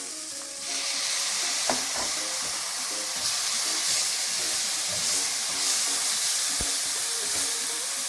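Minced garlic fries in olive oil in a pan, giving a steady, close sizzle and hiss with a couple of faint knocks from utensils, no voices present.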